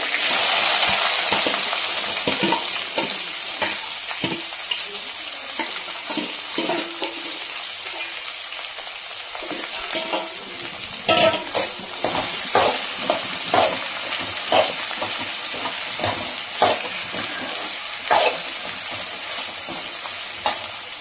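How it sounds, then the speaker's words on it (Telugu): Okra pieces fry with curry leaves in a hot pan, giving a steady loud sizzle throughout with intermittent scraping and stirring knocks, close and continuous with no talking. "తర్వాత బెండకాయ ముక్కలు వేసుకుంటున్నాను."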